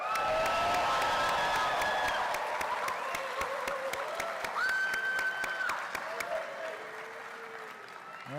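Commencement crowd breaking into loud, sustained applause and cheering on cue, with dense clapping and whoops that fade slowly toward the end while voices carry through.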